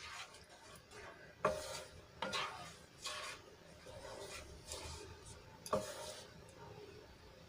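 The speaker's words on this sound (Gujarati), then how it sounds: "અને સરસ રીતે છાશને અને પાણીમાં ગ્રેવીમાં સરસ રીતે મિક્સ કરીને હલાવી લઈશું" Buttermilk and water are stirred into gravy in a pot, a quiet run of rhythmic spoon scrapes and knocks against the metal, some strokes sharper than others.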